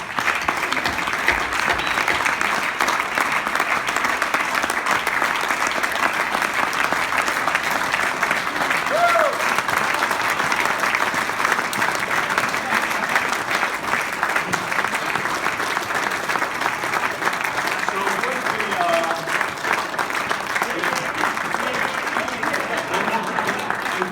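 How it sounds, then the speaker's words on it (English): An audience gives Todd a long, steady round of applause at a farewell gathering, dense clapping holding at an even level from start to finish, with occasional faint voices beneath. "come up to the front here and give him a round of applause"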